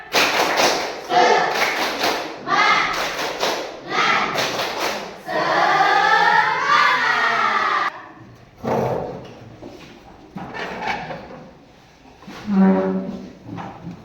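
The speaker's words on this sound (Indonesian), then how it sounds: "Tepuk semangat." A group at a teacher-training session performs a rhythmic spirit clap, bursts of patterned hand claps and thumps alternating with chanted voices in a lively call-and-response.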